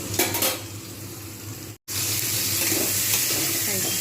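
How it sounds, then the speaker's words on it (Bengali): Pointed gourd (potol) pieces frying in hot oil in a pan, a continuous close sizzle with stirring scrapes and a brief cut to silence midway before the frying resumes. "পটলগুলো আর একটু লালচে করে ভাজবো"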